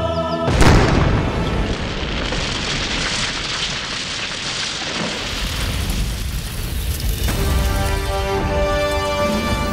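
A thrown magic golden pearl goes off in a loud explosion at the start, then a long roaring, crackling rumble like debris and fire fills the scene before thinning to a quieter hiss.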